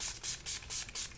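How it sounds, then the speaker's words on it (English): Urban Decay Oil Control setting spray hisses out in about five quick, close bursts in rapid rhythm, with no talk. "So I use my Urban Decay Oil Control setting spray."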